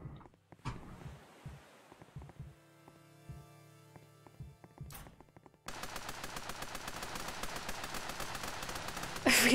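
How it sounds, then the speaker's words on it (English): Rapid, even bursts of machine gun fire in the video game Super Raft Boat Together, starting mid-clip and running continuously to the end after scattered quieter game sounds, with a louder burst at the close. "We all went machine gun."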